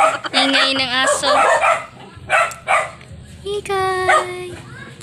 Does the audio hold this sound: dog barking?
yes